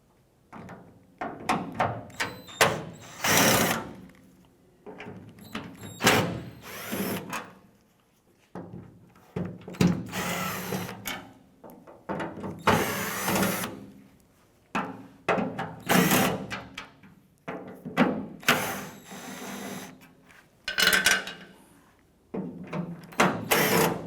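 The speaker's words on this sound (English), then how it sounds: "Using a T30 Torx bit, we're going to go ahead and remove the 8 screws holding this inner panel to the tailgate." A power driver backs out the Torx screws holding the inner panel on a 1993-1997 Ford Ranger tailgate. It makes repeated loud whirring bursts with short pauses between them, close up and with no talk.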